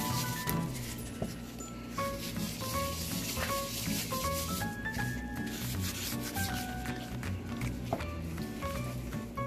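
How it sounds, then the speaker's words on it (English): Garlic, oregano and pepper seasoning being rubbed by hand over a raw pork shoulder for pernil, a steady close scratchy rubbing and smearing that continues without pause, with light wet slaps and shifts throughout. "then you rub the rest of it liberally all over the whole shoulder"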